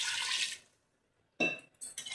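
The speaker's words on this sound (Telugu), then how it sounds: "చూడండి, ముక్క ములిగే వరకు వాటర్ వేసుకోవాలి." Water poured into a pot of goat head curry until the meat pieces are covered: a steady splashing pour at first, a quiet pause, then another burst of pouring and sloshing with light vessel clatter.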